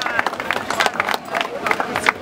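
A crowd at a 5 km running race in Trittau applauds and cheers finishers, with scattered clapping and babble of voices, fairly close and steady throughout.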